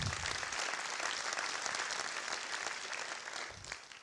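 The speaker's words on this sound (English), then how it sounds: "You can clap." An audience at an awards keynote applauds in a steady crowd clapping that holds throughout and tapers slightly at the end, heard somewhat distant with no talk.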